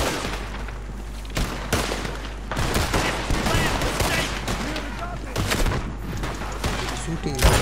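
Video game gunfire in Red Dead Redemption 2, with rapid, loud shots cracking in quick bursts and clusters throughout, mixed with a player's voice talking over the action.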